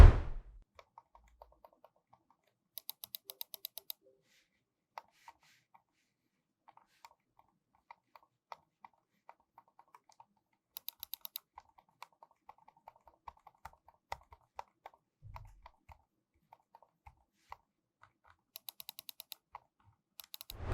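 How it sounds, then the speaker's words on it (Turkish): Sparse, quiet clicks from a computer mouse's quiet switches, scattered irregularly over about twenty seconds, with a few brief quick bursts of clicking and near-silence between. "Klavyede de olduğu gibi mouse'da kullanılan switchler de oldukça sessiz. Şöyle dinletelim."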